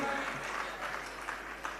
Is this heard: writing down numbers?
no